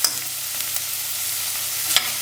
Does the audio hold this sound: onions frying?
yes